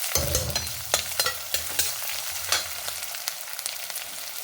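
Onions frying in oil in a pan while tempering for leftover-rice oggarane, with steady crackling sizzle and several sharp stirring scrapes and clatters near at hand, no talk.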